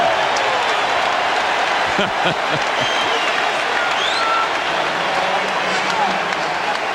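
Basketball arena crowd at a Toronto vs Philadelphia playoff game roaring and chanting MVP, a dense continuous wall of cheering and clapping that stays loud throughout.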